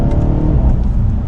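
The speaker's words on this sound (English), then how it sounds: "the whole car kind of picks up and takes off like a rocket when you do accelerate" A 2022 BMW 750i xDrive sedan with air ride suspension pulls hard under throttle, its engine a loud, steady, low roar with no pause from start to finish and no voices over it.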